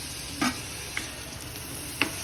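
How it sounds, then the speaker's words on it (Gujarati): Tomatoes dropped into a pan of milk cooking down for makai chevdo, corn chevdo: a loud scraping stir near the start, then a quick tap and a second clatter over a soft steady sizzle, close by with no voices. "હવે નાખી ટમેટા."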